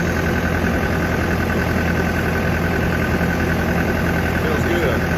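An engine idles steadily in cold weather at a logging site, its exhaust giving a constant low rumble and hum close by, with no change in pace.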